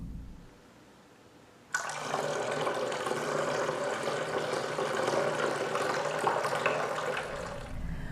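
Water pours steadily into a vessel during a water communion at a church ingathering service, a continuous splashing stream that starts abruptly and runs without pause, close and clear with no talk.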